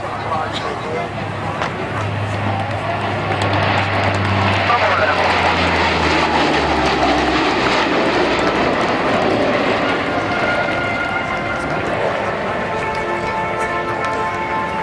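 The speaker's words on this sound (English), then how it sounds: "you'll see the Hercules of number 70 Squadron from Royal Air Force Liner as the Falcons line up for the salute and the aircraft flies by" An RAF Hercules of No. 70 Squadron flies past at the Baldonnel air show, a droning propeller roar with a low engine tone that sinks in pitch as it passes. Commentary over a loudspeaker runs beneath it.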